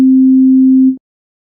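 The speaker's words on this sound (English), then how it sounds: "So the sine wave first" A pure sine wave test tone sounds alone, a steady loud hum held for almost a second before it cuts off abruptly into silence.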